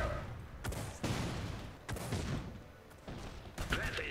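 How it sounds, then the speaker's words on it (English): Enemy gunfire in the World War I-era strategy game Iron Harvest, heard as a few sharp cracks and bursts spread across the moment, set against a busy, noisy battle bed with no clear talk. "Incoming enemy fire!"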